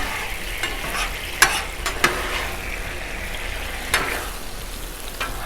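Chicken and broccoli stir fry with a cornstarch-thickened sauce sizzles steadily on a Blackstone griddle, broken by a few sharp clicks of a spatula scraping the surface.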